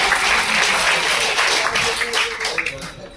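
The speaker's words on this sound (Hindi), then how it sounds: "तो ताली बजाते रहिए, गड़गड़ा के ताली बजाते रहिए।" A crowd at a Vishwa Hindu Parishad harmony seminar for the Sant Ravidas Jayanti festival breaks into loud, sustained applause, a thick continuous roar of clapping that thins into a few distinct claps at the end.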